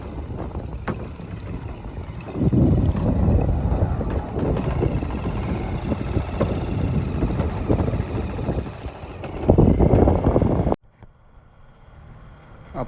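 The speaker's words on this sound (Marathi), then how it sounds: "वारा बघू शकता किती आहे. भरपूर वारा आहे आज." Strong wind roars loudly across a fishing boat at sea on a stormy day, heading out to pomfret nets off Bhilaji. The gusts rush steadily for several seconds, then cut off abruptly near the end.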